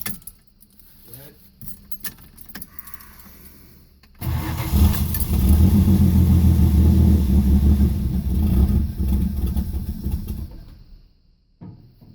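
A 1971 Dodge Dart barn find cranking and trying to start: keys jangle and a voice talks over quieter rattling, then a loud, close, sustained cranking roar churns for several seconds before cutting off.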